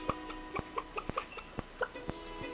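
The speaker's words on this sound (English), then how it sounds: "this is my chicken coop" Chickens in a Stardew Valley coop cluck in short, regular bursts, a steady rhythm of bright game sound effects with no talk.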